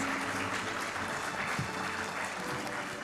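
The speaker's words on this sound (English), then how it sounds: "please join me in giving our graduating class a well-deserved round of applause" A large audience applauds a graduating class at a medical college convocation, a dense, sustained wash of many hands clapping at steady volume throughout.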